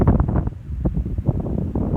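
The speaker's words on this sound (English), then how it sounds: "It's a little windy." Wind buffeting a microphone outdoors at the shore in Sea Isle City, New Jersey, on a December afternoon, loud gusty low rumbling that surges and dips throughout the two seconds, with no talking.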